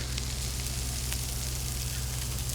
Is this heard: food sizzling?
yes